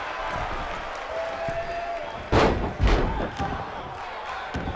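Wrestling body slam impacts in a WWE 2K women's battle royal match, with two heavy thuds over a steady roaring arena crowd.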